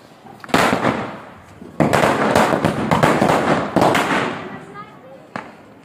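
Diwali firecrackers going off at home, a series of loud close bursts with crackling fizz that tails off between blasts, and voices talking and calling out around them.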